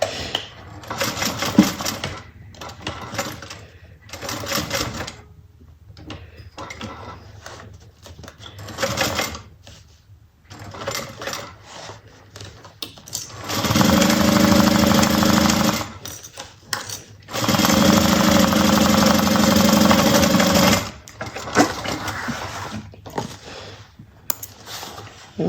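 A sewing machine stitches a Marzia bucket bag in two long, steady runs of rapid mechanical stitching, separated by quieter clicks, needle adjustments and handling noises.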